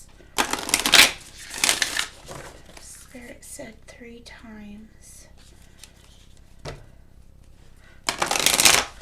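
Tarot cards are shuffled in a few quick, crisp bursts, with a quiet voice speaking softly in between.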